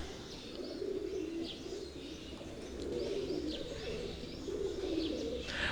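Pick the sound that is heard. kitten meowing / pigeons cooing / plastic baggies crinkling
pigeons cooing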